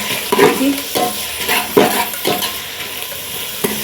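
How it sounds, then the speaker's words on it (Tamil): Whole cinnamon, cardamom and cloves sizzle in hot oil for chicken biryani, with repeated scraping stirs of a spoon at a steady rhythm over a continuous close frying hiss. "இப்போ இதில் பிரியாணியில் கருவாப்பட்டை, ஏலம், கிராம்பு சேர்த்துக்கொள்வோம்."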